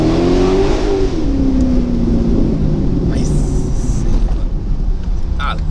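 A Chevrolet Corvette engine revs loudly near a beach, a deep continuous roar with rising and falling pitch that sits close and dominant throughout.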